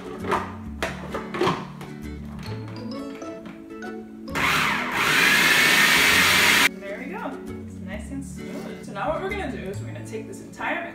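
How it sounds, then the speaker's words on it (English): A food processor whirs loudly for about two seconds as it blends pumpkin chunks into a puree, a steady high motor roar cutting in and out between stretches of a person talking. "put it into a food processor and blend it all together so it becomes a puree"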